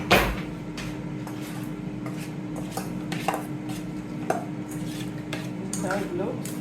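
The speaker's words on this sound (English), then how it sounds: "let me mix it first" Spices and ingredients are stirred and mixed in a bowl for scallops, with close, irregular scraping and light clinks of a utensil against the dish and no voices.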